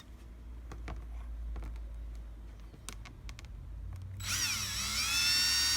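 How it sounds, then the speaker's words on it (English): Quiet clicks and handling noises, then a power drill whines up loudly near the end, its pitch rising and wavering as it bores slowly into a hose. "When you're drilling through your hose, you definitely don't want to go all the way through"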